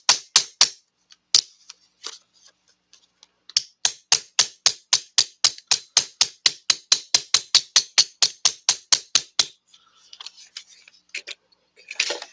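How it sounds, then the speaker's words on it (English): Hammering on wood while shaping a duck decoy: a long run of sharp, evenly spaced blows, close and loud, starting with scattered taps before settling into a fast steady rhythm, then trailing off into a few lighter knocks. "So I'm going to hammer on that just a little bit more."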